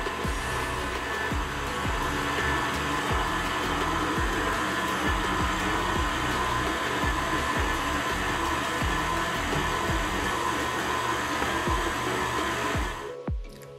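An electric mixer beats cookie dough as dry ingredients are added a little at a time, giving a loud, steady motor whine with a faint rhythmic churn that holds for most of the run and then cuts off.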